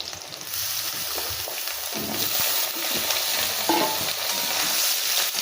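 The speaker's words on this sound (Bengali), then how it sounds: "বেগুনটা সামান্য একটু ভাজা ভাজা হোক" Steady sizzling of eggplant frying in a pan with potato and lentil dumplings, occasional scraping and stirring strokes throughout, fairly close and continuous.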